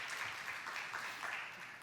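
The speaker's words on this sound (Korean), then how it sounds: "큰 박수로 환영해 주십시오" Audience applause welcoming a speaker to the stage at the LG SDC 2024 conference, a brief, fairly faint wash of clapping from a seated crowd in a hall.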